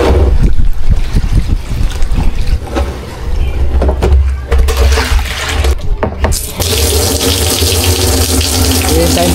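Tap water gushing from a faucet into a container before a car wash, a loud close rush that briefly dips and then settles into a steady, fuller pour.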